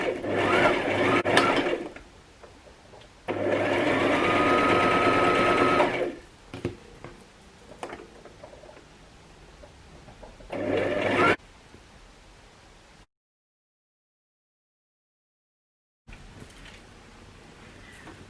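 A sewing machine stitches darts into a wedding dress in several short bursts of fast, buzzing whir, separated by quieter handling sounds and a silent gap.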